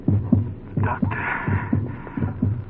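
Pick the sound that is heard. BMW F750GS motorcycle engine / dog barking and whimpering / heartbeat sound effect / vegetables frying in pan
heartbeat sound effect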